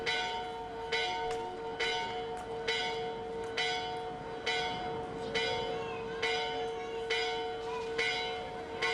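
Church bells ring steadily and repeatedly in Gibraltar, each loud strike overlapping the lingering hum of the last in a continuous peal.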